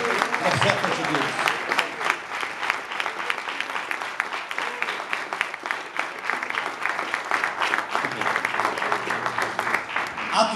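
A church congregation applauds during a service, sustained dense clapping from many people filling the room throughout, with some voices mixed in beneath the steady patter.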